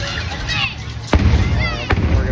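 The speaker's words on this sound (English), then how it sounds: "fireworks." Fireworks going off at a Disney park, two sharp bangs about a second apart over a busy crowd murmur with voices nearby.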